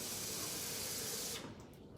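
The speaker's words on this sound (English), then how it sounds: "I'm gonna add in my water." Water poured into a pot holding uncooked rice, a steady close rushing splash that runs loud and unbroken, then eases off toward the end.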